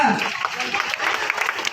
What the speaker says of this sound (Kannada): ಉದ್ಘಾಟಕರನ್ನ ಚಪ್ಪಾಳೆಯ ಮೂಲಕ ಬರಮಾಡಿಕೊಳ್ಳಬೇಕು.